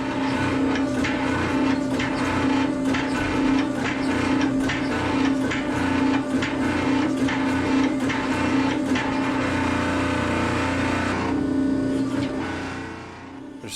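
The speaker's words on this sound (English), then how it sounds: "I'll use the press to forge the shoulders of the ricasso down and begin" A forging press shaping the ricasso shoulders and tang of a knife from steel, a loud continuous mechanical drone with a steady hum and a regular clattering pulse, easing off near the end.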